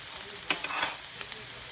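Kale and vegetables sizzle and sauté in a hot pan, a soft steady crackle with a few light stirring clicks, faint and close, with no talk.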